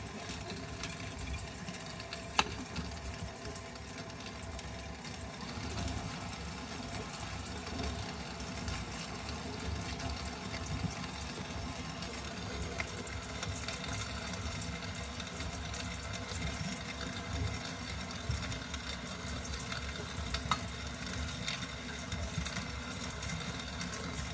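Steady mechanical grinding hum of a KitchenAid stand mixer grain mill attachment grinding wheat continuously, a dense whirring drone with faint rattling, no voices.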